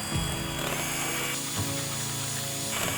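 A drill drives a mixing paddle through a bucket of pigmented concrete coating, giving a loud, continuous close-up motor whir with scraping and churning throughout.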